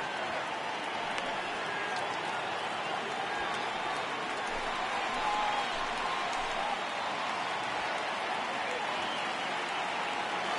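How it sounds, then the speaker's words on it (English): At a minor-league baseball game between the Memphis Redbirds and the Express, the crowd rises for a full count with a steady, far-off roar of cheering and clapping that holds evenly throughout. "Crowd gets up for the 3-2."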